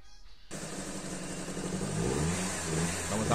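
A car engine starts after a timing belt replacement and settles into a running rumble that rises and revs a little, close and steady, without speech.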